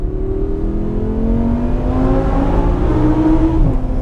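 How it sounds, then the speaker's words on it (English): Lamborghini Huracan V10 engine downshifting, with loud close rumbling exhaust and rising then falling engine tones as revs change, continuous with no voices. "There's some downshifts"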